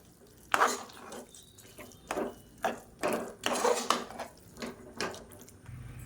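Pongal mixed with ghee and oil in a pot, with a spoon scraping and knocking against the metal in repeated uneven strokes, close by with quiet pauses between them.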